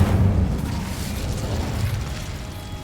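Incendio fire spell in Hogwarts Legacy bursts with a loud, forceful blast up front, then settles into a rumbling, crackling roar that slowly fades, with no speech.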